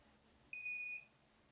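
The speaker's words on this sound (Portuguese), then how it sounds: "primeiro bip do aquecimento já foi" A buzzer on an MQ-3 alcohol sensor circuit gives a single clear electronic beep of about half a second, close and alone against a quiet background.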